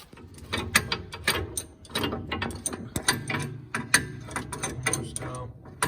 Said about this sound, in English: Oh, yeah, better take out our coil spring collapser.